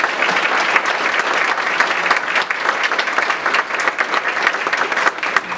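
A business meeting audience gives Commissioner Lee a dense, steady round of applause that holds loud and even for several seconds without any speech.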